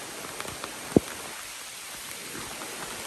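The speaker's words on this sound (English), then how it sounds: "It actually started full on raining." Heavy rain falls on a hiking trail on the North Country Trail, producing a faint, steady hiss. A few sharper drop impacts stand out, with a distinct tap near the first second and another at the end.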